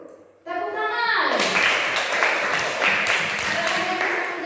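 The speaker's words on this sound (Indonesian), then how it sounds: "Tepuk tangan." A class of children bursts into rapid, sustained clapping that fills the classroom, following a brief spoken phrase in Indonesian at the start.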